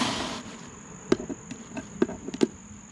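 Small snapping clicks of a brass fitting on a Ruler Hydro surface cleaner being pushed into place, three or four quiet sharp snaps over a faint steady hiss, no talk.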